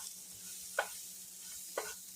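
Flour-coated mushrooms and vegetables are stirred in a pan for Salisbury hamburger steaks. A soft, low sizzle sits under two distinct utensil knocks about a second apart, with no voices.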